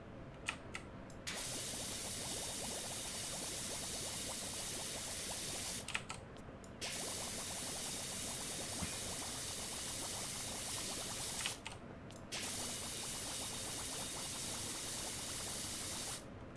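A pressure washer sprays cleaner in the video game Power Wash Simulator, with three long, loud hissing bursts separated by short pauses.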